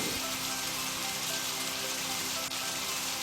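Heavy rain falls in big drops, drumming steadily on a surface as a dense, continuous patter that holds at an even loudness throughout, with no voices.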